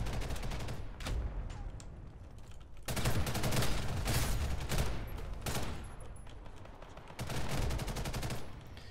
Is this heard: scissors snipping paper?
no